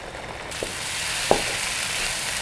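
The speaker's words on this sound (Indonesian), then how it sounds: "Ini kita tumis seperti biasa sampai matang ya." Spice paste for sour-spicy tilapia stir-fries in a pan, giving a steady broadband sizzle with two brief clinks or pops along the way.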